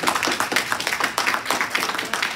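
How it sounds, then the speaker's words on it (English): An audience at a county commissioners' candidate forum claps steadily, a close, fairly loud patter of many hands continuing evenly throughout. "Again, I ask that you hold your applause at the end."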